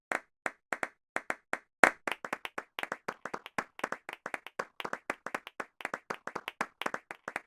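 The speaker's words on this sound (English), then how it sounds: "it's Cypher who begins applauding us" Seifer claps alone in a Final Fantasy VIII hallway scene, a steady run of sharp, close single hand claps at an even rhythm, slightly quickening midway.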